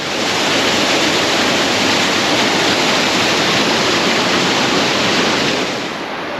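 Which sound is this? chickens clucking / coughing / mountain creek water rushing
mountain creek water rushing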